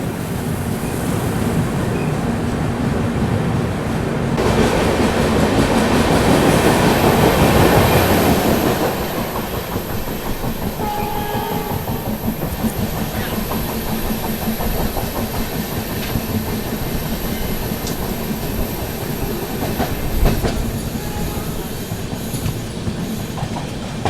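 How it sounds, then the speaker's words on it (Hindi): Duronto Express passenger train running on tracks through misty ghat hills, a steady loud rumble of wheels and carriages with clickety-clack and a brief louder surge early on, no talking. "अपनी ट्रेन यहाँ पे चल रही है"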